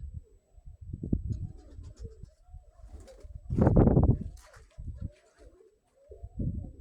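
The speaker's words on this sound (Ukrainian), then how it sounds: "І зараз залетить голубка." Soft, low homing pigeon coos repeat in a relaxed rhythm, close by, with one fuller burst in the middle and faint rustling between.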